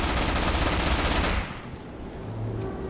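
Dense gunfire rattles loudly in Ghost Recon Online, a tactical shooter, then cuts off abruptly partway through, leaving quieter ambient game sound and a faint low hum.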